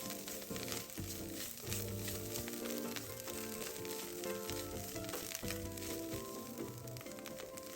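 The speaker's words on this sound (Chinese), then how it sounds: "再将预先备好的虾米、咸菜脯40克、香菇3朵，切成丁，全部一起倒入爆香" Diced dried shrimp, preserved radish and mushrooms stir-fry in a hot pan with garlic, giving a soft, continuous sizzle beneath background music.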